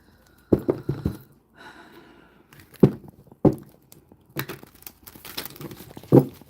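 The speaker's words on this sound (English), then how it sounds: "that was the most fucking satisfying shuffle I think I've ever fucking watched in my life" Two decks of oracle cards are shuffled by hand in a few distinct bursts of riffling and crinkling card noise, close and fairly loud, with quieter handling sounds between them and no talking.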